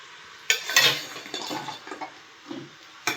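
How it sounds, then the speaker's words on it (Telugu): Fried gulab jamuns are moved into a bowl of sugar syrup, heard as scattered clinks and scrapes of a metal utensil against cookware, close and fairly quiet, without talk. "ఇప్పుడు ఈ విధంగా ఫ్రై అయిన గులాబ్ జామున్లన్నీ ఒక గిన్నెలోకి తీసుకోవాలి"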